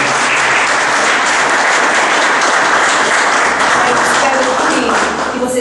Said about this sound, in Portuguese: Palmas pra ele também